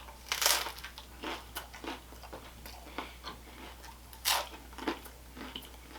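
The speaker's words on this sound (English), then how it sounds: "Good crunchy bread," Crunchy garlic bread topped with bruschetta being bitten and chewed at a pizzeria in Hasbrouck Heights, NJ: close, irregular crisp crunches and crackles in uneven bursts, with no talking.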